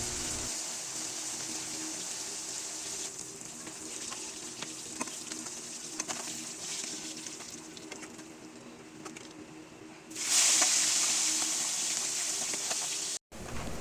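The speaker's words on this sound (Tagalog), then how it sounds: "So tuloy-tuloy lang natin iprito tong yung bangos natin." Milkfish (bangus) frying in a pan of oil gives off a steady hiss and crackle. Near the end a sudden louder burst of sizzling rises, then cuts briefly before returning.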